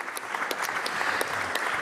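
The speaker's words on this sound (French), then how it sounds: "j'aimerais d'ailleurs qu'on applaudisse les administrateurs" Applause in the French Senate chamber, a dense, steady burst of many hands clapping close by, filling the whole short moment without talk.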